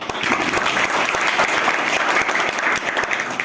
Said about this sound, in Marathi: एकदा पुन्हा जोरदार टाळ्या वाजवा